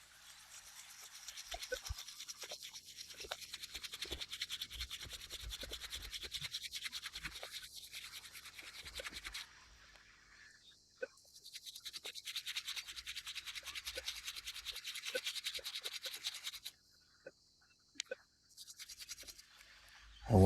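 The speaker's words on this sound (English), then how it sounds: "just give it a gentle rub with the toothbrush" A toothbrush scrubs gently over an old coin, making close, continuous bristly scratching in long bursts broken by brief pauses and small knocks.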